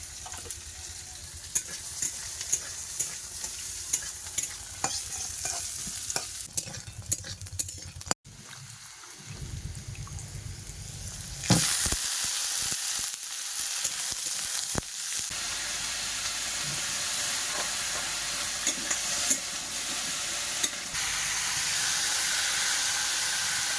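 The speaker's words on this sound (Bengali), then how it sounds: "হালকা হালকা করে ভাজবো পেঁয়াজ দিয়ে দেবো" Onions fried lightly in a pan for a fish curry, stirring clatter and sizzle at first, then after a brief pause a loud steady hiss of frying that carries on to the end.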